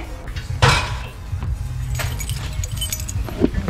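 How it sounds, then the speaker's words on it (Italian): Car keys jangle close by, a bright metallic rattle that bursts loudly near the start and then recurs in lighter shakes over a low rumbling background. "Accendo le chiavi della macchina."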